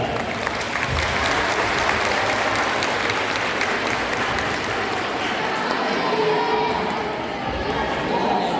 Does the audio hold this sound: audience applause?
yes